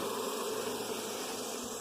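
A steady, dense buzzing of many honey bees at an open hive during inspection fills the clip, close and continuous, with no voices.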